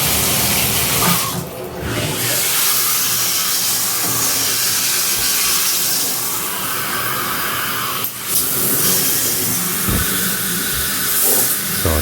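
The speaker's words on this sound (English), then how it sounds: "I'm going to turn on the water, but I'm going to bring the shower head down here so you won't splash everywhere." Water runs steadily from an ANZA 4.7-inch handheld shower head held low, giving a loud, continuous hissing spray with a brief dip near the start.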